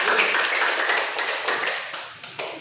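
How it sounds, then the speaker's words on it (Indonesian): Classroom applause for a student group, a brisk burst of clapping from a small audience that starts strong and gradually thins out, with a few last claps near the end. "Aplaus untuk kelompok 2."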